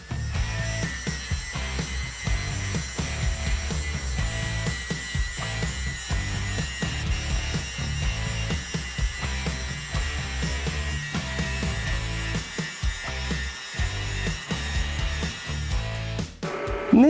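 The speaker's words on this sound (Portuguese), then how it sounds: "Você vai pegar aqui uma esmerilhadeira com um disco de desbaste, vai manter aqui ó, a 45 graus e vai formar um chanfro para que a solda penetre" An angle grinder fitted with a roughing disc cuts a 45-degree bevel into thick steel, a steady high whine over rhythmic grinding pulses, loud and continuous throughout.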